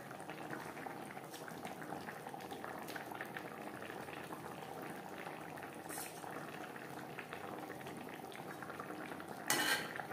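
Bata fish curry with vegetables simmers in gravy in a pan, a soft, continuous bubbling heard close up, with a couple of brief utensil clinks near the end.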